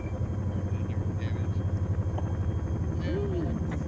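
A military helicopter lifts off in the Antistasi video game, its rotor making a steady pulsing thump and engine roar up close, with radio chatter and voices talking over it.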